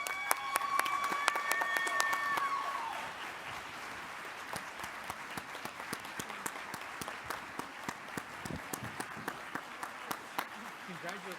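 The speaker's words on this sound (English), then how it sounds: "Please give her a warm round of applause." Audience applause at an award presentation fills the room, dense clapping at first and then thinning out into scattered claps, with a tonal sound and some talk heard early on.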